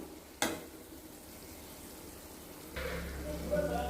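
Grated coconut is stirred in ghee in a pan, with a sharp clank of a utensil at the start, then a low steady frying hiss that thickens and grows louder toward the end.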